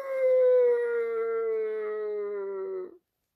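A person imitates a dog's howl with one long, steady, strongly tonal wail that holds for about three seconds and slides slightly downward before cutting off abruptly, sounding loud and close with no other voices.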